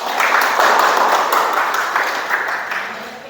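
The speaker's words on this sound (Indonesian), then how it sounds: "Tepuk tangan buat temannya." A classroom full of students claps for a classmate returning to their seat, a dense, steady applause that fades gradually over a few seconds.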